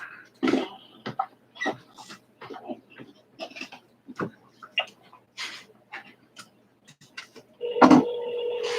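A telephone line being dialed for a call during a council meeting, with scattered short tones and clicks followed by a louder, sustained ringing or dial tone at the end.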